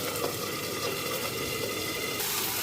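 Lentils (dal) sauté in a pan, giving a steady, close frying sizzle with soft stirring scrapes, continuous and unbroken by talk.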